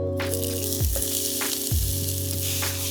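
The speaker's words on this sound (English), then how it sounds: "So I'm going to sweat down my onions and begin to allow these to sort of soften, right?" Diced onion sizzling hard in neutral oil in a cast iron pan, a loud close continuous hiss with a few low knocks as the pan is moved, over quiet background music.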